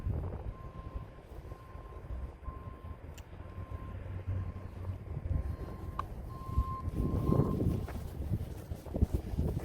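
Heavy wind buffets an outdoor microphone with a constant low rumbling roar, swelling into a stronger gust near the end, with a faint steady tone running underneath and no talking.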